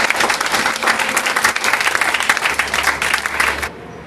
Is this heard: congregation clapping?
yes